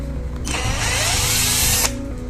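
A new electric drill machine spins up loudly for about a second and a half, a steady high-pitched whirring burst that starts and stops abruptly with no talking over it.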